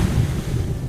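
Ocean surf and wind rush after the player character rolls off a cliff into the sea in the video game What Remains of Edith Finch; a steady, loud, low roar with no voices.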